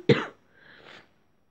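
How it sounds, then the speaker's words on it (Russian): A single sharp cough from a sick person, close and loud, followed by a softer breathy tail, with no talking. "извините меня за кашель, за то, что я болею немножко"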